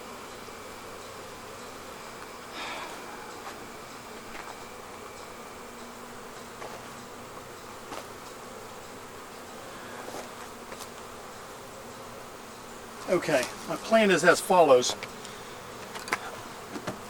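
Honeybees from a dead-out hive buzz faintly and steadily close by, with a few louder bursts of activity near the end and a voice talking briefly over them.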